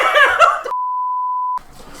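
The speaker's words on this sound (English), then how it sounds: "Extremely loud, incorrect buzzer." A loud, steady incorrect-answer buzzer sounds for just under a second, cutting in abruptly after people talk and laugh, then stopping sharply as quieter voices continue.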